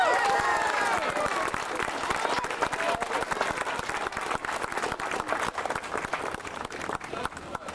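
Enthusiastic applause from a crowd at a 2001 protest rally in Ballaghaderreen, Ireland: dense clapping that fades slightly and continues, with some voices and cheering mixed in.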